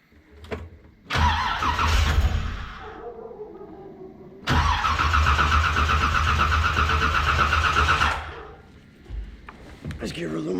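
A 1981 Corvette engine cranks and catches, runs rough and briefly, dies, then starts again and holds a loud, uneven idle for several seconds before cutting out. People talk nearby between the attempts.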